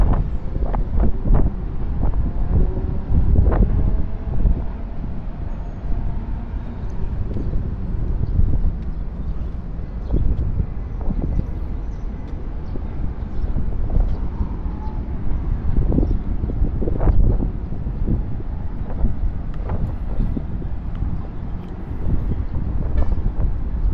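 A steady outdoor breeze buffets the microphone with low, rumbling gusts that rise and fall continuously and never let up.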